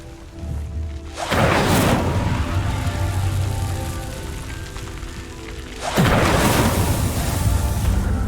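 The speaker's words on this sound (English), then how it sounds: "The flames make the pyre sink." A burning wooden pyre in Hogwarts Legacy roars and collapses after an Incendio spell, giving two loud rushing crashes of flame and debris, the second stronger, with a steady crackling rumble between them and no talking.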